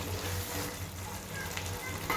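Chickpeas fry in a pan while garam masala is stirred through them, making a continuous soft sizzle with faint scraping and a few small pops, close by and fairly quiet.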